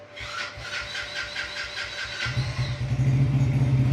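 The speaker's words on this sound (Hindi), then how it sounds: "हम इसे सेल्फ से ही स्टार्ट करते हैं।" A 2025 Crown CR 100 motorcycle's electric self-starter whirs in a rapid ticking crank for a couple of seconds, then the engine catches and settles into a low, steady idle.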